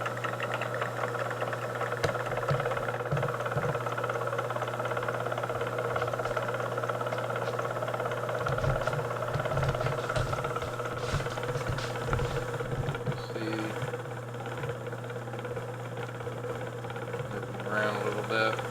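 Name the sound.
die filer running, belt and clutch drive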